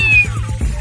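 Cartoon cats fighting over a piece of bread let out a loud, whiny meow with a sliding pitch, short and close.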